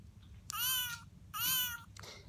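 A toy cat's electronic meow rings out twice in quick succession, close and fairly clear, each call a short bright tone over a quiet background.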